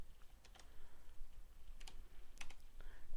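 Rapid keystrokes on a computer keyboard, a run of light, close clicks in uneven bursts with brief pauses, alone and fairly quiet.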